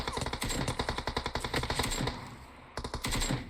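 Automatic gunfire from the video game PUBG Mobile fires in rapid bursts of sharp shots, pauses briefly, then resumes with a few more shots, loud and close.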